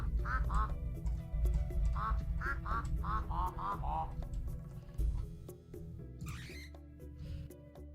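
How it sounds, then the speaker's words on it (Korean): A string of short, nasal duck quacks, about ten in quick bursts, over a low steady hum, then a brief higher chime-like tone, in Stardew Valley. "오리 깃털을 들고 지나가니 오리가 꽥꽥 하는 소리가 나와요"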